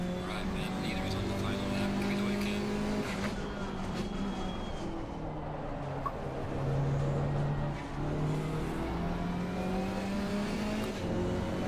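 Race car in Assetto Corsa Competizione sliding through a corner, a continuous loud engine drone with shifting tone and tyre scrub under it, with someone talking over the sound.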